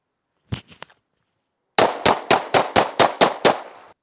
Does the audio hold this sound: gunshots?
yes